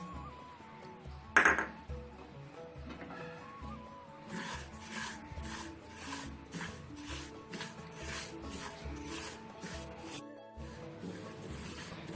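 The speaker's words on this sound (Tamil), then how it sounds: "இப்போ எள்ளு நல்லா சட சடான்னு பொரிஞ்சு வருது." Sesame seeds dry-roasting in a pan over a low flame, with soft scraping and light clinks, then a run of quick crackling bursts in the middle, all fairly faint.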